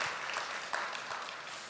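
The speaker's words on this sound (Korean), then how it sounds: "우리 감사하다고 박수하겠습니다." Church congregation applauding during a Sunday service, a brief steady wash of many hands clapping at moderate distance.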